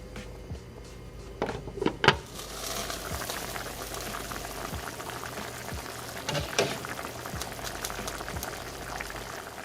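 Vegan Mexican pozole bubbles at a rolling boil in a pot, a dense close gurgle with a few louder splashes and clinks early on, running steadily throughout with no voices.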